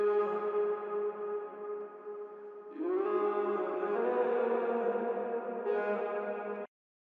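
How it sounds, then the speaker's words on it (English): A dark, ambient vocal loop sample plays back in beat-making software: sustained layered tones that shift pitch near the three-second mark, swell again, then cut off abruptly, with no talking. "Alright, so I found a vocal loop I like a lot."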